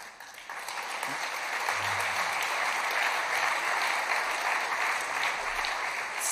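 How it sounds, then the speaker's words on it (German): An audience at a political speech on energy and climate gives steady, moderately distant applause that swells after a brief start and holds evenly for several seconds. "Applaus"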